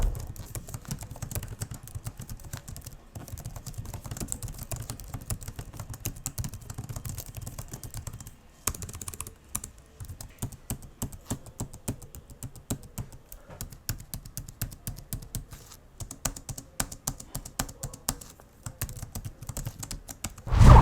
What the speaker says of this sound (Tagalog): ito na nga yung tunog ng keyboard para sa ating typing test